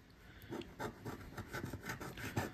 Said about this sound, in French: Ça fait un drôle de bruit quand je gratte.